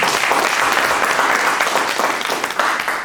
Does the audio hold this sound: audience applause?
yes